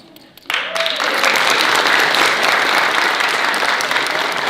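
Audience applause at an Estonian nationwide theatre day for people with special needs in Paide, held in a hall. It begins abruptly after a brief quiet moment, then stays as a steady, dense roar of many hands clapping.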